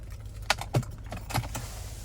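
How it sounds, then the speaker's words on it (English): Key fob with remote start for a 2022 Chevrolet Blazer RS being handled, a few brief close metallic jingles and clicks over a quiet background hum. "here's our key fob with remote start"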